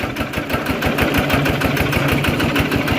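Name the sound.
modified tractor engine idling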